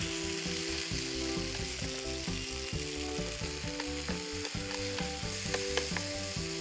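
Tomatoes and onions fry together in a pan as a steady, close sizzle that runs throughout, heard beneath continuous background music with sustained tonal notes.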